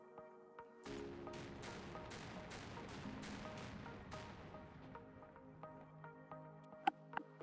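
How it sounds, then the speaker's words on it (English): Naval guns fire a salvo in the video game NavalBattleZone: a rapid string of booming shots over about three seconds, then a lingering rumble with faint tones and a sharp click near the end. No one talks. "All right, Mew, go ahead and fire a salvo."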